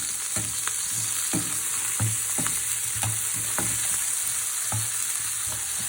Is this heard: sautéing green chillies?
yes